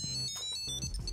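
A Tile Mate Bluetooth tracker plays its activation tone, a bright ringing melody of clear electronic notes lasting about a second, close and steady with no talking.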